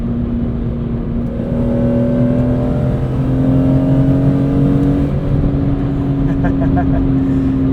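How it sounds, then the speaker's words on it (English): Engine induction note of a track-prepped 2005 BMW E46 M3 Competition with six-speed SMG while driving, a loud steady drone with rising tones as the revs climb, heard from inside the cabin with people talking over it. "there's that induction sound you're talking about"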